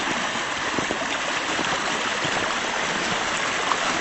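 A snowy creek flowing steadily, a close, constant rushing wash of water with no break across the stretch.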